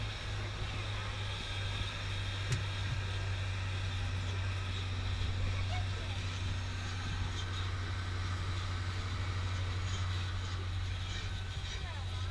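A steady low rumble and hum of a tram in motion runs throughout, fairly quiet and unbroken, at the Magic Kingdom ticket center.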